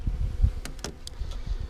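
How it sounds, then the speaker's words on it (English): Honey bees buzz close by near a hive, a steady low droning hum with a few brief sharper buzzes as scout bees pass near. "Still scout bees."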